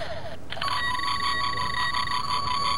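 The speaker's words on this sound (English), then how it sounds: "That's the tricorder." A Star Trek toy's tricorder sound: an electronic sci-fi warble starts after a brief pause, holding steady bright tones with a pulsing, chirpy modulation for a few seconds.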